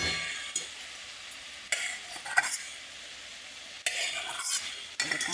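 Small crabs fry in cooked spice paste and are stirred in a pan, giving a soft continuous sizzle broken by several scraping, clattering strokes of the utensil against the pan, close and fairly quiet, with no talk.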